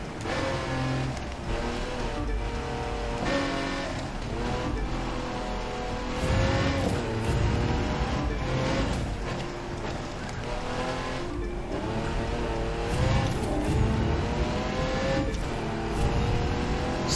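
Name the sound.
street race car driving in video game The Crew 2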